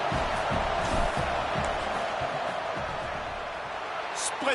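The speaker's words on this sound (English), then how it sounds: "This crowd trying to do its part to get inside the kicker's head." A home college football crowd keeps up a broad, steady roar during a field goal attempt, a wide wash of noise with an announcer talking over it.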